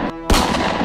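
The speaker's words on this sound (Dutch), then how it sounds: "besefte toen pas dat het om pistoolschoten ging" A single sharp, loud pistol shot bursts out after a brief hum, its echo lingering and decaying.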